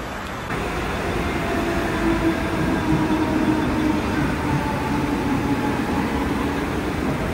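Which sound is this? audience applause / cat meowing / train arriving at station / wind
train arriving at station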